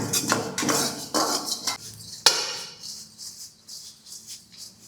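Coriander powder stirred into crispy corn in a Chinese kadai, a spoon scraping and clinking against the metal pan in quick bursts, loud at first then lighter and sparser, with no talking.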